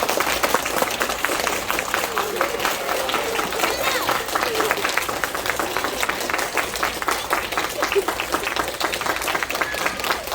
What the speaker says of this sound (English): I want you to clap for those fine people.